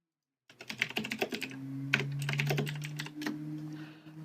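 Fast clattering keystrokes on a computer keyboard, quiet and close, in quick irregular bursts over a low steady hum.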